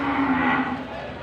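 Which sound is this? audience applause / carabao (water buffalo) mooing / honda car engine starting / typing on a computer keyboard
carabao (water buffalo) mooing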